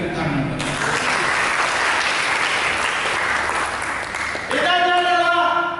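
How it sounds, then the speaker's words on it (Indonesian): Church congregation clapping in a broad, even burst after a voice, with more speech resuming near the end. "Berikan tepuk tangan."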